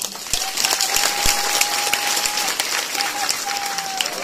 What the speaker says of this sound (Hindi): ताली लगाएं।